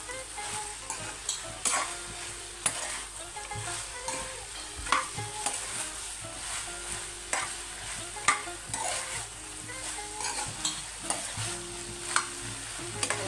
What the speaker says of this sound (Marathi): आणि हे छान आता आपल्याला मिक्स करून घ्यायचंय।